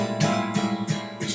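Guitar strummed with a standard pick in a bluegrass lesson: bright strummed chords ring out close and loud, with sharp pick attacks falling roughly every third of a second and no talking.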